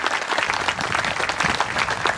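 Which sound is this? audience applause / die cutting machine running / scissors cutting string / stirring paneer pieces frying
audience applause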